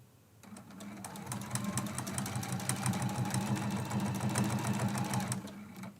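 Sewing machine stitching quilt binding with a back stitch, running in one steady, fairly quiet stretch of about five seconds before stopping.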